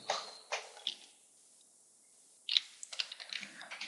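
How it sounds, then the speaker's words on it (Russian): A few sharp computer keyboard presses, a keyboard shortcut entered while drawing in a graphics editor, sounding as isolated clicks near the start, then a quick cluster of light taps after a pause, close and fairly quiet. "Теперь я нажимаю Ctrl-T."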